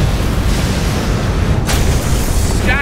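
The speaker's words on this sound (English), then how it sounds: "Massive secondary explosions." A deep, rumbling explosion booms loudly and sustains, with a sharp crackling burst partway through.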